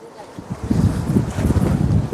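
Strong wind blows outdoors, buffeting the microphone with a constant low rumbling roar and uneven gusty surges.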